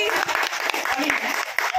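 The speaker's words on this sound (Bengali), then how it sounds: "সবাই হাততালি।" Guests at a surprise family celebration clap together in a quick burst of applause, with voices mixed in over the clapping.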